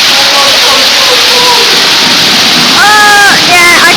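Waterfall at a water park pouring steadily and loudly throughout, a broad rushing roar with brief higher tones cutting through near the end.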